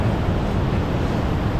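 Ocean surf at Redgate Beach, a steady broadband wash of breaking waves mixed with wind rumble, loud and continuous with no voices.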